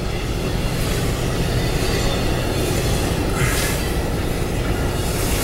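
A fast train roars past through snow with a steady, dense rushing rumble and faint wheel squeal, continuous and close for the whole stretch, no voices.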